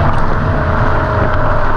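The 3.3-litre twin-turbocharged V6 of a 2020 Kia Stinger GTS hums steadily with a broad, even engine rumble, close and constant throughout with no talk.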